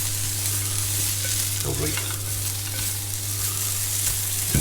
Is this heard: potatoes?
yes